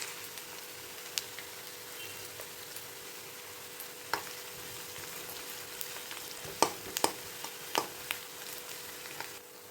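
Finely chopped large onion fries in a pan, a steady soft sizzle broken by occasional sharp crackles and taps as it is stirred, with no talking.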